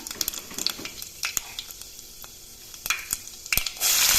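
Onions fry in hot oil in a kadai, a close crackling sizzle with scattered stirring clinks, swelling into a louder hiss at the end.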